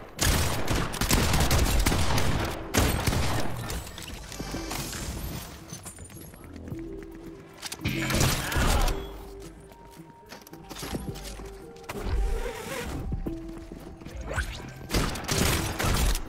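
Dense automatic gunfire rattles through a Fortnite match in long, continuous bursts with brief lulls, loud and close, with sharp mechanical clatter mixed in and no voices over it.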